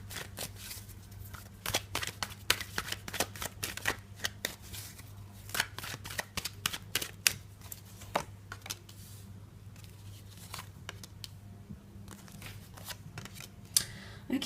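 Tarot cards being shuffled by hand, a long run of quick crisp riffles and flicks in irregular bursts, close and fairly quiet over a faint steady hum.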